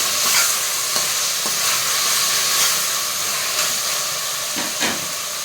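Coriander, curry leaves and mint being stirred in hot oil for a home-style veg pulav, giving a steady close sizzle and hiss with occasional soft scrapes of the spoon, and no talking.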